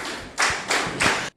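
A student audience claps as a team of contestants walks onto the stage, three short bursts of clapping, the last cut off abruptly into silence.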